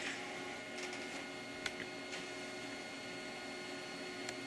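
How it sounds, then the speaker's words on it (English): An inkjet-style printer feeding and printing a heat transfer film sheet, a faint steady mechanical whir with occasional soft ticks and clicks, no voices. "So we'll just wait for this to print."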